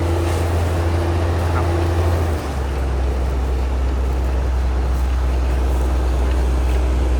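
A Ford tractor pulls a trailer through a sugarcane field, its engine droning in a steady, loud, low rumble that stays unbroken throughout with no voices.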